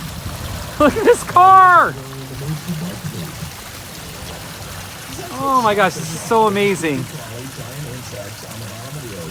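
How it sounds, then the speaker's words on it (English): Water runs from a fountain built out of an old pickup truck outside a travel store in Arizona, a steady trickling pour heard beneath excited talk from a nearby woman. "And there is an old car that's been transformed into a water fountain. It's a running fountain."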